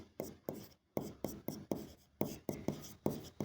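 Chalk or marker strokes on a board during an accounting lecture, a steady run of about a dozen sharp taps and scrapes in quick rhythm, fairly quiet with no talk over them.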